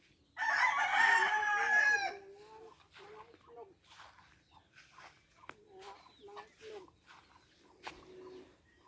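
Near a hen house, a rooster gives one loud, close crow, then chickens cluck in short, scattered bursts at a softer level with quiet background voices.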